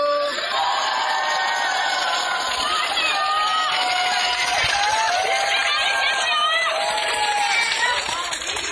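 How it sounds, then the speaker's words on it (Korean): Street crowd at a market walkabout during a Korean election campaign visit, clapping and cheering with scattered shouts and whoops, steady and loud throughout, with voices calling out over the noise. "더 힘내서 이번 총선 압승하라고 힘찬 박수 부탁드립니다"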